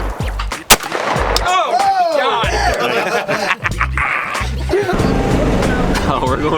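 Benelli Super Black Eagle 2 semi-auto shotgun fires at sporting clays outdoors, one sharp loud blast early on, with people talking and reacting throughout.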